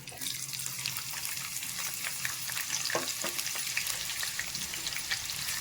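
Onion fries with a bay leaf, cinnamon and cloves for a mutton gravy, giving a steady close crackling sizzle with light stirring clicks throughout.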